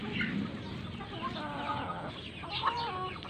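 Jersey Giant chickens clucking and murmuring in a backyard farm, several birds close by with soft repeated calls and a brief louder squawk near the end.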